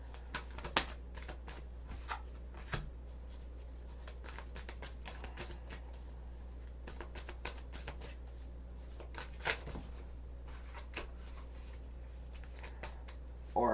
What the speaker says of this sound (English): Or I just don't know how to shuffle.